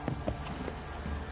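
Roach, the horse in The Witcher 3 video game, gallops with quick clip-clop hoof beats in a steady run. The hooves sound close and moderately loud throughout, with no talk over them.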